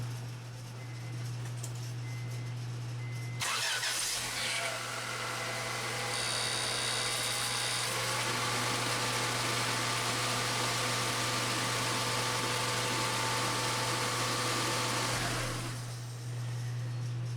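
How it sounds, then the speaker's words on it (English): A Honda Accord engine cranks over, starts and settles into a steady idle for about twelve seconds during a power steering fluid service, then shuts off, leaving a constant low hum underneath. "I'm just going to turn the car on, let it idle for a few seconds and turn it off"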